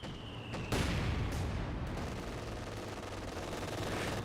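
Steady gunfire fills a Company of Heroes 2 battle: mortar and Vickers machine-gun bursts rattle near and loud, with dense overlapping shots and a sharp impact at the start, continuing without pause.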